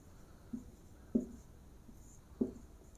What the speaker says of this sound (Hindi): आप इसे लिख सकते हैं